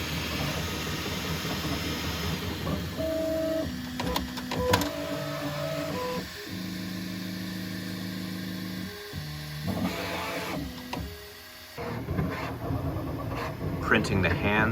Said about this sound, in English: Printing the hands and wrists right now